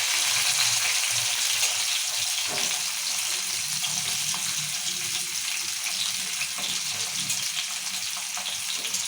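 Green chilies sizzling in hot oil in a kadai for liver fry, a steady close hiss of frying that holds level throughout with no talk.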